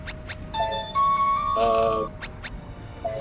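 A mobile phone rings with a short, bright melodic ringtone of several chiming tones for about one and a half seconds, with brief voice sounds before and after.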